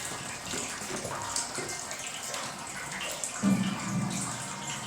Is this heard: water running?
yes